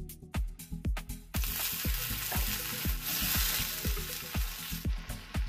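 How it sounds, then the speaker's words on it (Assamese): Cashews and whole spices frying in a pan as a splash of water hits them, a loud hissing sizzle bursting up and holding steady, with sharp spoon scrapes and clinks against the pan. "কাজুখিনি অলপ ভাজি লোৱাৰ পাছত হিজিবৰ কাৰণে অকণমান পানী দিব লাগিব"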